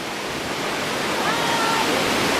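Victoria Falls in Dominica roars as a constant dense rush of falling water, close and loud, with a faint tonal whistle partway through.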